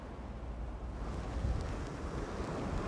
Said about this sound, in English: Look at that heaving sea.